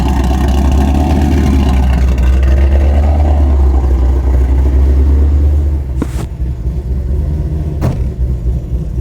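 A Shelby GT350 V8 fitted with new cams idles while warming up, a loud, deep, lumpy rumble close by that holds steady, then eases slightly near the end with a couple of sharp knocks.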